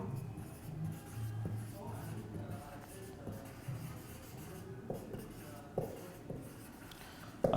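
Chalk or a pen moves across a classroom board in short scratchy strokes with occasional taps, fairly close and soft, while a teacher's voice is faintly present at times.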